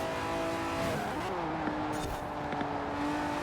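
A Lamborghini Miura races in Forza Horizon 4, its engine droning steadily at high revs with shifting pitch and short tire squeals as the car slides, loud and continuous with no talking.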